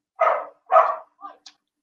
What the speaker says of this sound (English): Sorry if you can hear the dog having a wee hoon in the background there.